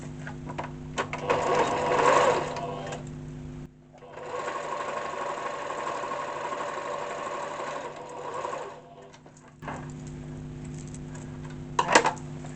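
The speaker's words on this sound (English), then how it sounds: "I'm just going to overlock my edges now." An overlocker sewing machine finishing fabric edges for a tote bag runs in a fast, steady whirring chatter for several seconds, pauses briefly, then runs again, with a small clack near the end.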